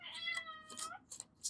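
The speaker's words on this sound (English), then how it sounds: "Can you hear my kitty?" A house cat meows several times in quick succession, close and fairly quiet, each call a short tonal cry with a brief pause between.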